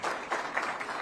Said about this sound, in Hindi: बार जोरदार तालियां